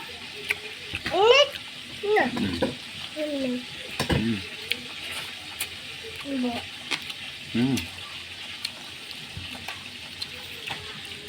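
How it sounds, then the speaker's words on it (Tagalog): Fish from a night spearfishing catch fries in a pan: a steady low sizzle and hiss runs underneath while people talk over it in short phrases. "Pinirito mga kapaders."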